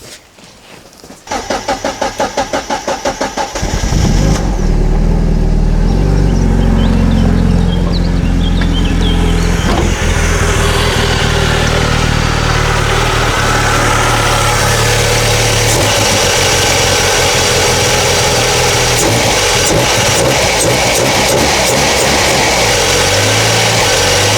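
Car engine cranks with a rapid churning starter, catches and settles into a loud, steady idle that runs on for about twenty seconds, heard close up in a freshly reworked engine bay with a new air intake.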